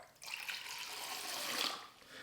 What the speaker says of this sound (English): if I put a lot of pressure on the syringe, the water just gushes out.